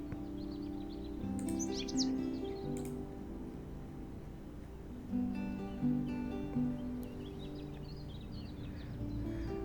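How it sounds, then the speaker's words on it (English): A song sparrow call plays in the Wingspan board video game: bright chirping phrases in short bursts over a sustained musical background, with a second faint burst of chirps later. "Let's listen to the song sparrow."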